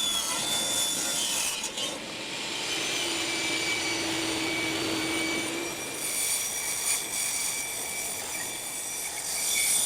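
Wood is cut into pieces for a tool tote with a continuous, fairly close rasping saw noise that holds steady for about ten seconds with no voices.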